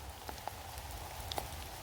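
Light drizzle falling on a forest campsite, soft scattered drops tapping surfaces at close range, with a few sharper individual drips standing out over a faint steady patter and no speech.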